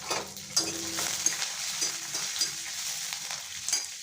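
Green chillies and curry leaves fry in hot oil in a pan for an amla rasam tempering, giving a steady, close sizzle with faint stirring scrapes and no voices.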